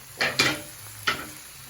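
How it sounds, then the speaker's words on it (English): Onions hit a hot pan for rotini pasta, giving short bursts of sizzling and a few clinks of a utensil against the pan, three distinct close hits with quiet gaps between. "after adding these onions, I'm just gonna kind of like tap on the onions and let it cook a little bit in the middle"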